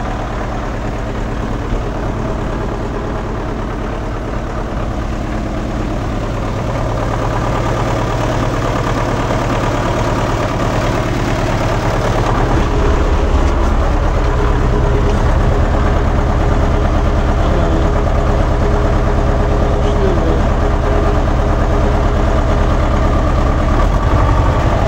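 A Belarus MTZ tractor's diesel engine idles steadily and loudly nearby, a continuous low rumble that grows slightly heavier partway through, with no talking.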